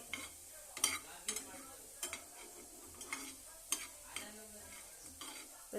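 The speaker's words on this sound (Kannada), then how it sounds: "ಅದರಲ್ಲೇ ಎಲ್ಲ ಹಾಕಿ ಫ್ರೈ ಮಾಡ್ಕೊತಿದ್ರೆ" Fennel, fenugreek and cumin seeds dry-frying in a pan. A quiet, faint rustle is punctuated by a series of light spoon taps and scrapes against the metal, with no talking.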